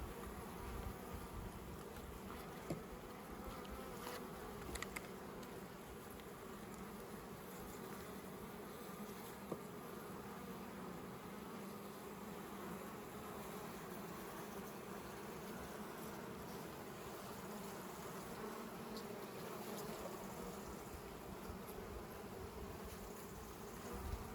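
Dense, continuous buzzing of many honey bees close by at a hive, a steady droning hum with no talking.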